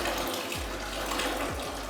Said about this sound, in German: Und schon kommt mehr Wasser, ne?